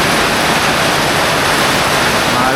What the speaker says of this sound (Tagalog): Diba, konting ulan lang naman dito eh.